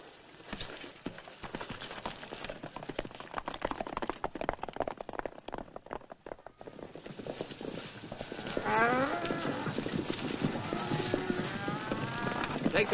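Cattle lowing and mooing amid a noisy herd in an old Western film, with hooves clopping and a busy outdoor bustle; the moos grow louder and clearer toward the end.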